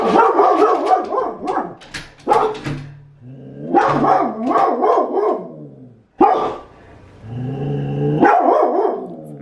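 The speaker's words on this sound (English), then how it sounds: "dog Emmett." A dog barks in loud, close bursts of rapid, repeated yips and barks, pausing briefly between volleys, with some whining, high-pitched tones mixed in and no talking.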